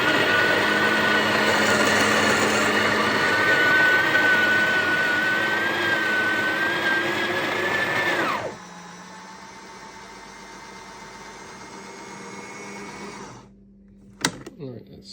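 A Breville Oracle BES980 Gen 3 espresso machine's built-in grinder, set to grind size 20, grinds coffee beans with a loud, steady whirring drone that cuts off after about eight seconds, leaving a faint low hum and a few small clicks.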